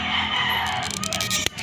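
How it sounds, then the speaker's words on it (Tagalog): A fuel filter on a Honda RS 150 motorcycle locks into place with a single sharp click near the end, following soft handling noise, with no talk. "pag narinig nyo yung tumunog na yon, pak, yon, nag-lock na yon"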